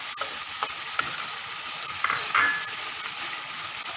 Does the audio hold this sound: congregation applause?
no